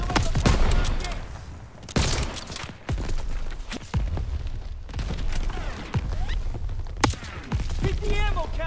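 Gunfire in the video game Call of Duty rips through bursts of rapid shots and booms as ammo caches are hit, close and loud, while voices speak over the fighting.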